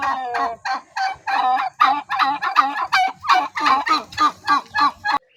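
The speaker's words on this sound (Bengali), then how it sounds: "এখানে রয়েছে 250 পিসের মতো কোয়েল পাখির বাচ্চা 6 দিন বয়সী" A group of about 250 six-day-old quail chicks calls in a close, loud, rhythmic series of repeated peeping cries, a dozen or more bursts in quick succession with short gaps between.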